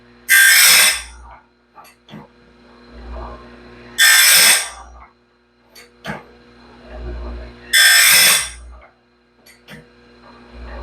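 A grinder sharpens the teeth of a sawmill band blade, each tooth getting a loud, brief hissing grind repeated about every four seconds, with soft clicks and clunks between passes.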